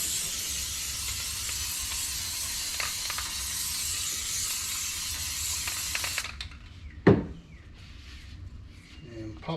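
Aerosol spray can hissing steadily onto an RV rooftop air conditioner cover, a continuous close spray lasting about six seconds before cutting off, followed by a brief clunk and quieter handling sounds.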